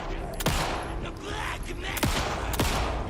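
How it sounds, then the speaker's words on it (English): Video game gunfire crackles in repeated bursts, with a few sharp, loud shots standing out from a steady wash of combat noise. "Stop shooting me!"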